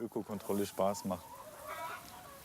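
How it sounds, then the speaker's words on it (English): Laying hens cluck in an open-air enclosure holding about 700 birds, with a quick run of close, rhythmic clucks that fade into softer, more distant farmyard sound. A voice talks over part of it. "the open-air enclosure for 700 laying hens"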